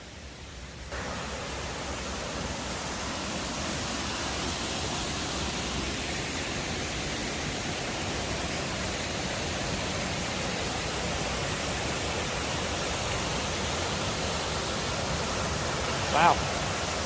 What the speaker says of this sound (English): Can you hear all that water? Yeah. Here we are. Skinny Dip Falls.